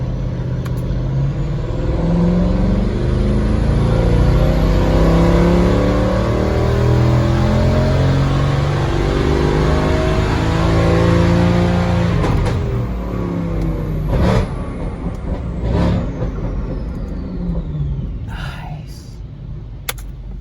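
Mercedes W204 C63 engine on a dyno run, a loud, deep V8 roar building steadily in pitch through a long wide-open pull, then dropping off near the end.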